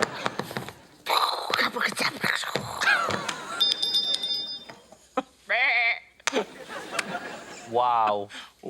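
In a sound effects booth, a woman imitates a sheep with her voice, giving a couple of wavering, bleating calls near the end of a busy stretch of vocal effects and other noises.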